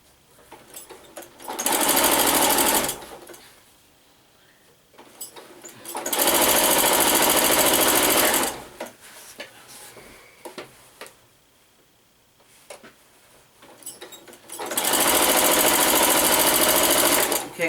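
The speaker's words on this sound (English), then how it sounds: "I'm going to sew right across the whole other back or front" A sewing machine stitches a seam across a quilted sewing machine cover in three long, steady runs, loud and close, separated by quieter pauses with handling noise.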